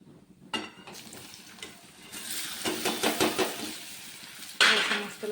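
Taro leaf rolls (alu vadi) frying in a pan of hot oil with cumin, mustard seeds and turmeric: bursts of sizzling swell and fade, with clinks of a utensil against the pan and a sharp hiss near the end.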